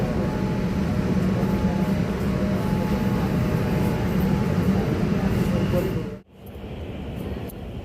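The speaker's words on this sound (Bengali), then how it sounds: "আমাদের ট্রেন চলে এসছে" A metro train pulls into an underground station beneath the Ganges with a loud, steady rumble that fills the space, then drops away abruptly near the end before a quieter hum resumes.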